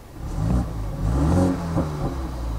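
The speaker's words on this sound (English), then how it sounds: "If I go into sport, you'll hear the buzz more." A BMW 330i engine in sport mode revs and buzzes in rising and falling surges, a mid-pitched whine swelling twice before settling into a steady hum.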